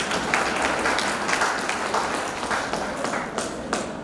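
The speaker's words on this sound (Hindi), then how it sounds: "ताली बजाओ।" An audience at a humorous Hindi poetry gathering breaks into applause, a dense, steady patter of many hands clapping at once with a few sharper claps standing out.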